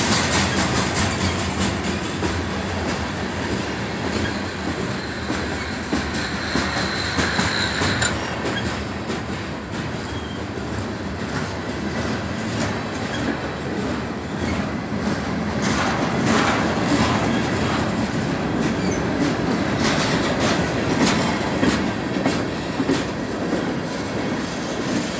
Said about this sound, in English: Long train.